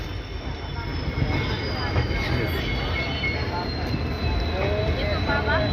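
A Kashipur–Bareilly City DEMU train pulls in close by with a steady heavy rumble, whining motor tones and intermittent wheel squeal, loud and continuous throughout.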